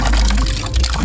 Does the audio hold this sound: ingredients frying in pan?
no